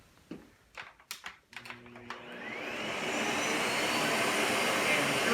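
Miele S7580 Tango upright vacuum cleaner powering up after a few clicks of the controls, its motor swelling into a loud, steady whooshing roar that holds to the end, with no talking.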